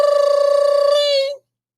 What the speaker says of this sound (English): Listen, I can hear the phone call.